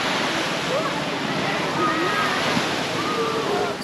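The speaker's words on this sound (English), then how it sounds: "But this is the beach." Ocean waves breaking at a beach in the Philippines, a loud steady wash of surf and wind noise with faint voices mixed in, close and continuous.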